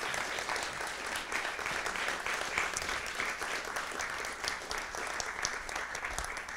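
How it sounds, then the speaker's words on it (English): An audience at a university last lecture gives a round of applause to the lecturer and his family, a steady wash of many hands clapping at a moderate distance, continuous throughout, no speech. "Can we have one more round of applause for Ben and his family?"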